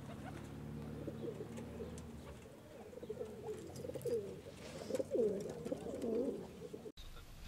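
Homing pigeons kept for flight contests coo steadily nearby, several soft rolling calls repeating in an irregular rhythm over a low outdoor hum, with no one speaking.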